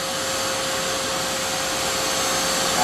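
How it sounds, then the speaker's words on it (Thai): A dust extractor keeps running on alone after a Makita 10-inch LS1019L slide miter saw is switched off, giving a steady, loud, close-up whooshing roar with a faint high whine and no other sounds. "พอผมดับเครื่องเครื่องดูดฝุ่นจะหน่วงอยู่สักพักหนึ่ง"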